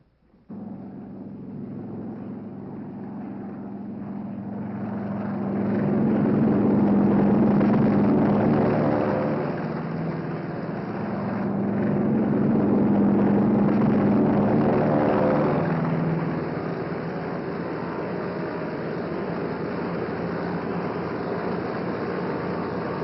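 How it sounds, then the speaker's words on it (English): A WWII carrier air group's propeller planes take off one after another from a flight deck into a strong trade wind, engines swelling and fading in a broad, continuous droning roar with no voices. "Our entire air group thunders out behind the group commander."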